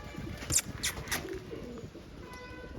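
A few soft pigeon coos in quick succession early on, fairly faint, over a quiet outdoor background with light bird chirps.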